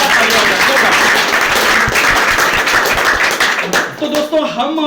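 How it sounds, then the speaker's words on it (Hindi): Loud, dense applause from an audience at a 100-week celebration event, steady and sustained throughout, with shouts and voices mixed in and thinning toward the end. "सभी लोगों के लिए एक बार जोरदार धमाकेदार तालियां हो जाए।"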